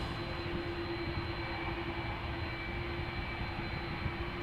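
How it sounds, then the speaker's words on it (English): A KLM Airbus A330-200, registration PH-AOE, departing Amsterdam Schiphol on a flight to Houston gives a steady, broad jet-engine roar with a constant tonal whine, continuous and fairly distant throughout. "This is KLM flight 661 to Houston, Texas. A330-200"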